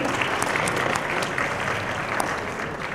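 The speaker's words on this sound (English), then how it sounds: "Can you please have a huge round of applause once again?" An audience at a press event for a Dabangg Tour 2018 stop in Pune gives steady, dense applause, with many hands clapping close and loud for the full stretch.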